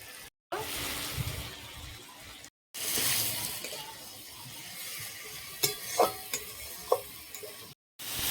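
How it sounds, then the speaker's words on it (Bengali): Potatoes fry with green chilli paste and ground cumin in a pan, giving a soft sizzle and scraping stirs with a few sharper clinks near the end. The sound cuts out briefly several times. "মশলার সাথে খুব সুন্দর আলুটা ভাজা হয়ে গেছে"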